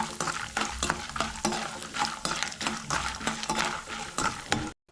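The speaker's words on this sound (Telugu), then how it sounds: "1 కప్పు వేరుశనగ పల్లీలు కూడా వేసుకొని బాగా అయితే ఫ్రై చేసుకోండి" A cup of peanuts frying in hot oil in a pan, a steady close sizzle broken by rhythmic spatula scrapes and stirring clatters, with no talking.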